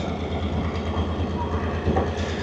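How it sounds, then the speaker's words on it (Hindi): Continuous rumbling roll of a Pakistan Railway passenger train, 336 Down, crossing the Thar Desert, heard from inside at close range with a low rhythmic thump and no voices over it. "अच्छा, हम इस ट्रेन में जो सफ़र कर रहे हैं"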